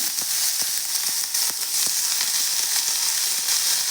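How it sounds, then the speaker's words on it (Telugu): Potatoes fry in a pan over a low flame with a steady, dense sizzle and scattered soft pops and stirring clicks, close and continuous throughout. "సేమ్ వంకాయ లాగానే ఇది కూడా బాగా వేయించుకోవాలి లో ఫ్లేమ్లో వేయించుకోండి"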